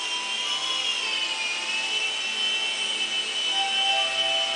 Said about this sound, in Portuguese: Bacana o helicóptero.